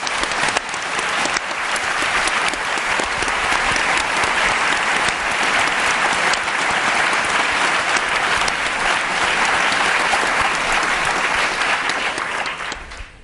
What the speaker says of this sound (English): I can hear from all your claps, there's such enthusiasm in the audience